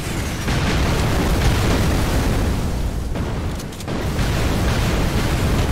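Sustained, loud rumbling bombardment of explosions in the video game Red Solstice 2, a dense continuous roar of blasts with a brief dip before rolling on, no talk over it.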